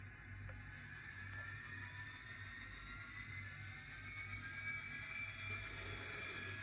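A small electric motor hums steadily with rising high-pitched whines as a model train, run with a ProtoThrottle, moves along a track, quiet and continuous.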